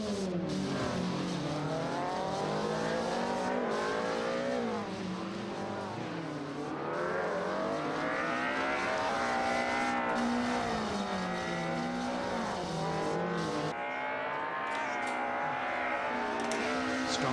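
Race car engines in an esports racing video game at the eROC 2022 Grand Final rev hard from the start and climb through rising, gear-shifting whines, loud and continuous, with no talk over them.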